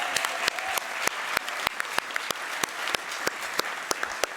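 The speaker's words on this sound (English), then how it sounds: "please join me in a big round of applause for our wonderful pianist" Sparse audience applause for a pianist at a writers' festival: a handful of distinct, fairly spaced hand claps with a soft room murmur underneath, moderately quiet and without talk.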